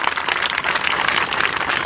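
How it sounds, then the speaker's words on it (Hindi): Crowd at an outdoor political rally in Nowshera breaking into steady, dense applause, a continuous wash of clapping filling the short moment without a voice over it. "वाह, सबने जोरदार ताली मोदी साहब के लिए।"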